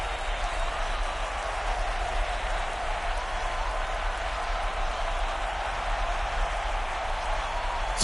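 Indoor football playoff stadium crowd cheering and applauding in a steady, dense roar that holds loud throughout, with no pauses.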